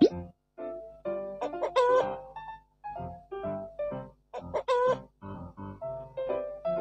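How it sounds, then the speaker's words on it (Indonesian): A rooster crows and clucks in a cartoon-style sequence of repeated loud, close calls with short pauses between them, no talking underneath. "Ayam jantan."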